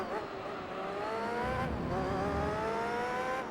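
A race car in Gran Turismo 3: A-Spec revs steadily, its engine pitch climbing, dropping at a gear change, then climbing again, with someone talking faintly beneath.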